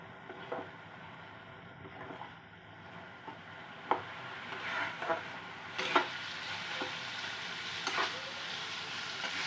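Prawns with kochur loti and grated coconut sizzle softly in a pan as a spoon stirs and scrapes through them, irregular clinks and scrapes over a low steady hiss, growing a little louder toward the end.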